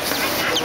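Chickens being bought cluck in a brief, close, fairly loud burst against a dense hiss of background noise.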